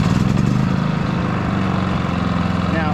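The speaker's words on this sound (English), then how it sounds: "Come over here to fire up the Cummins generator" A Cummins 4500 generator running with a steady, loud engine drone and low mechanical hum throughout, close by, with a brief faint higher tone near the end.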